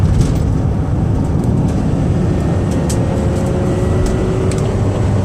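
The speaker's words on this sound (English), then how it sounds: "I'm going to put the pedal to the metal so you can hear the engine work and the transmission shift." A 2006 Chevy Uplander wheelchair-accessible van with 175k miles drones steadily at speed on the highway, its engine and road noise forming a loud, continuous rumble with no talking.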